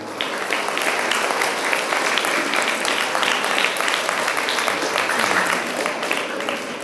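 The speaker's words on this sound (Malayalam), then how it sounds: "എം എൽ എക്ക് ഒരു കയ്യടി കൊടുത്തേക്കാതായിരുന്നു" An audience at a local panchayat playground event applauds the MLA, a dense, sustained burst of clapping from many hands that stays loud and even throughout.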